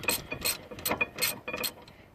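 A hand ratchet clicks in quick bursts while tightening a bolt on the brake caliper of a 2004 Honda Element, several short rhythmic runs of pawl clicks, close and fairly quiet.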